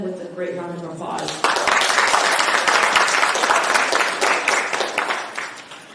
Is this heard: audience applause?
yes